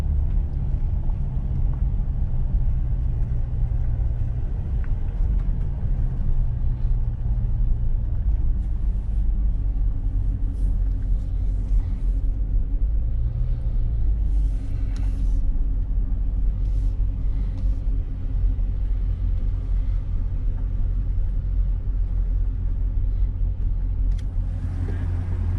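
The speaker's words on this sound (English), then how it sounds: "Oh, there's the pace car and there's the Camaro." Pace car and Camaro circling Darlington Raceway on a cold, windy day, heard as a steady, continuous low engine rumble throughout, with wind buffeting the microphone and no clear pass-by peak.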